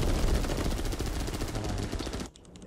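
Aircraft machine guns fire in the air combat video game War Thunder, a loud continuous rattling burst with engine roar underneath that cuts off abruptly near the end.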